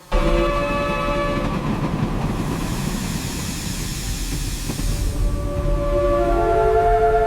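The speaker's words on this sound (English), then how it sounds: "Engine whistle." A steam train rumbles steadily along with rhythmic clatter as a long, tonal steam whistle sounds at the start and again near the end, loud and close.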